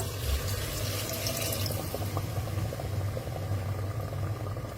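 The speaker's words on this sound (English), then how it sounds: "Now I am adding water into it." Water poured into a cooking pot while making Maharashtrian masale bhaat, a steady close splashing and bubbling stream that runs the whole time with no talk.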